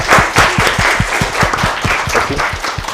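Applause at a student hackathon finals for the keynote speaker, close and fairly loud, with individual claps standing out in a quick, uneven rhythm from a small crowd.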